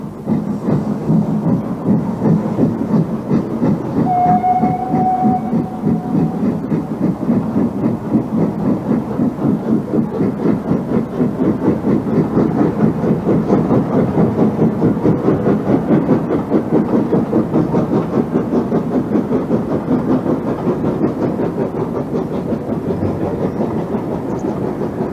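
A preserved steam tank locomotive working the Midland Railway Trust line, a loud, close, steady rhythmic rumble and clatter of the engine and wheels running on without a break, with a brief whistle-like tone early on and no speech.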